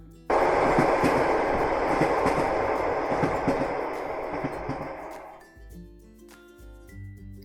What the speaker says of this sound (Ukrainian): Це потяг.